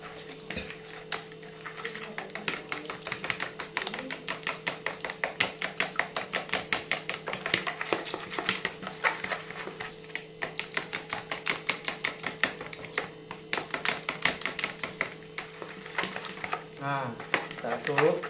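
A fishing bait mixture with egg whites stirred briskly in a bowl, producing a long run of fast, rhythmic tapping and scraping strokes at moderate distance over a steady low hum.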